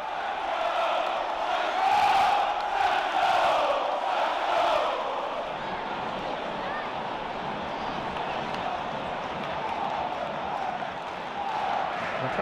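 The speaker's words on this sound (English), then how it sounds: "The crowd doing their best to rally Preston North End themselves" Football crowd at Deepdale roars in support of Preston North End, a loud, sustained wall of cheering and chanting that swells early then settles into a steady rumble.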